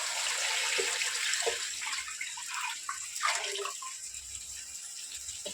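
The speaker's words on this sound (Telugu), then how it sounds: "ఇప్పుడు వాటర్ పోస్తున్నాను నేను" A steady stream of water pours and splashes into a cooking pot of chicken pulao, fairly quiet, with a few clinks along the way.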